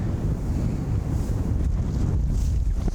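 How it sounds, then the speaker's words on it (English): Strong wind during a disc golf round buffets the microphone in a continuous loud, rumbling roar with gusty surges and no talk. "that's how bad the wind is right now"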